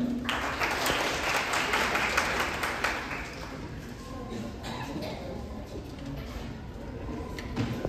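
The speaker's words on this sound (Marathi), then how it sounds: "जोरदार टाळ्या झाल्या पाहिजे." A crowd applauding at a college poetry competition in Nashik, loud dense clapping for about three seconds that then fades to scattered claps and room murmur.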